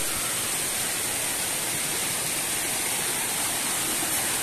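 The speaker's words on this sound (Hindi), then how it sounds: "ओ गाइस देखो ये छोटा सा वाटरफॉल मिल गया है अभी।" A small mountain waterfall in Bhutan, a steady broadband rush of falling water that fills the whole clip evenly, close and loud with no breaks or voices.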